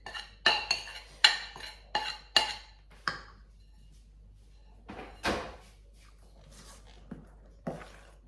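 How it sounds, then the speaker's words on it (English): A metal spoon clinks against a mixing bowl while stirring gluten-free birthday cake batter: a quick run of sharp, close knocks in an uneven rhythm, then a pause followed by a few scattered, softer taps. "mix it round with the spoon."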